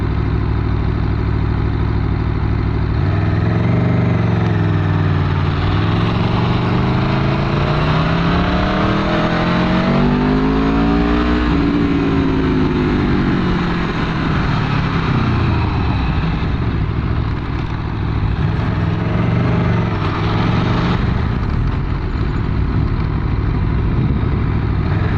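Aprilia Tuono V4 motorcycle being ridden, its loud engine rising and falling in pitch as it accelerates and shifts, with steady wind and road roar close to the rider.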